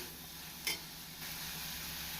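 Finely chopped onions sauté with pepper powder in a pan for an egg onion masala, giving a steady, close sizzling hiss with a single stir-like tap and the frying growing slightly fuller partway through.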